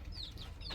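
Young Aseel parrot-beak chicks and chickens clucking and peeping in a wood-floored cage under a 200-watt heat lamp on a farm in Chennai; short high chirps come in quick bursts over a low steady hum.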